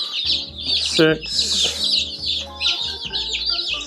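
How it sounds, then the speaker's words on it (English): A large flock of newly arrived chickens on a cabin homestead clucks and chirps busily up close, with overlapping calls throughout while a person counts aloud. "That's a lot of chickens."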